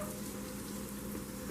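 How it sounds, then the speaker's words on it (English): A faint, steady sizzle of poblano pepper frying in a hot pan, soft and continuous with a low background hum. "which again you can hear a little bit of that sizzle."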